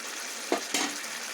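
Ghee hits a pan of vegetarian jackfruit curry with gravy, giving a short sizzling burst followed by a second brief sizzle over a steady low frying hiss.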